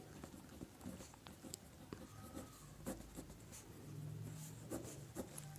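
Pen scratching on paper while a math answer is written out by hand, faint close strokes and light taps in an irregular rhythm over quiet room noise.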